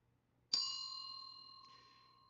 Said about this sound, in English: So this is the Ganta or bell, and I'm going to ring it